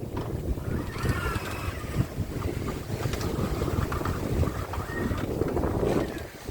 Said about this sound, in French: le vent est bien monté.